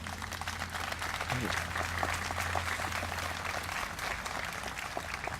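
An audience at a Memorial Day observance claps in steady, sustained applause, a broad wash of hands filling the space for several seconds, with a voice speaking faintly underneath.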